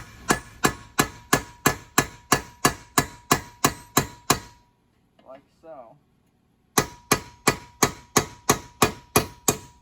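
Rapid, evenly spaced metallic hammer blows ring out on a chisel driving out a bushing, pausing briefly while a voice speaks, then resuming at the same steady rhythm.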